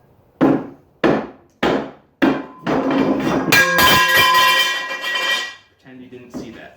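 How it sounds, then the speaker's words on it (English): A hammer strikes the bead of a three-piece wheel during disassembly: four sharp, evenly spaced metallic blows, then a louder, longer clattering and ringing of metal that fades, with a faint clink at the end. "Now I'm gonna take this hammer."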